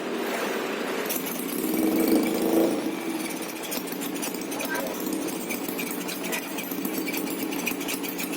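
A Honda Wave Alpha motorcycle engine under restoration idles with a steady, rough buzzing drone, close up, while someone talks over it.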